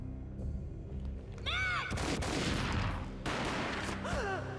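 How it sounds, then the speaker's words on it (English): A booming gunshot in the video game Max Payne cuts through game effects and swooping tones, a loud sharp report followed by a dense crackling burst, with no talking. "A gunshot boomed and she fell down in slow motion."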